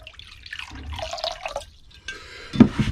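Clean water poured into a crock pot while heating wax: a short watery trickle and splash lasting a couple of seconds, with a louder splash near the end, and no talking.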